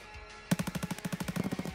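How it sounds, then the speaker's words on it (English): Rapid automatic gunfire nearby in Escape From Tarkov, a fast, evenly spaced burst of about twenty loud shots that starts abruptly after a quiet moment and carries on to the end. "There's people shooting near me, come on!"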